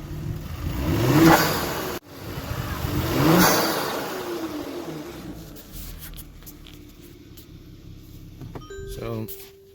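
A Kia Stinger with a modified exhaust revs twice, each rise swelling loud and deep, then settles into a lower rumble while a person talks.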